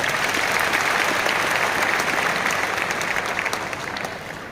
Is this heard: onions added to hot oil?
no